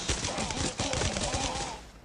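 Rapid, dense automatic gunfire from a machine gun in the mobile shooter Gun of Boom, loud and continuous for about two seconds with a slight break partway through.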